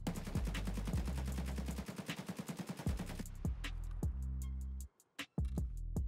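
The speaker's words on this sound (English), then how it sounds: "And now let's shoot the AKMS without any mouse input." Full-auto bursts from an AKMS rifle in Escape from Tarkov, a rapid string of loud, close gunshots lasting several seconds with a short gap near the end, then a few final shots.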